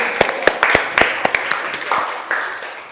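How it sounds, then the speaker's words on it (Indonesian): A classroom gives a student group scattered applause: a handful of sharp, irregular claps close by that taper off within a few seconds. "Tepuk tangan sekali lagi buat mereka ya."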